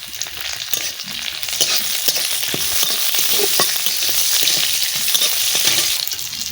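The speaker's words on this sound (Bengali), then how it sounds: "ওটা জিরে দিয়ে দিচ্ছি, তেজপাতা দিয়ে দিচ্ছি, এইবারে আমি কারুপাতি দিয়ে দিচ্ছি।" Cumin seeds, bay leaf and curry leaves fry in hot oil for an idli meal, a loud, continuous sizzle with sharp crackles and pops and occasional stirring.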